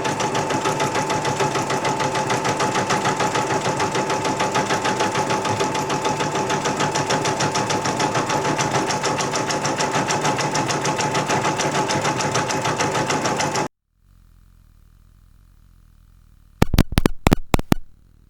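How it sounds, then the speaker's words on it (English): An embroidery machine stitches a design on a patchwork tote bag project, giving a steady, fast mechanical whirr with a rapid needle rhythm that runs continuously, then stops abruptly, followed by a few sharp clicks. "The hoop is going to move, and it's going to start embroidering the design."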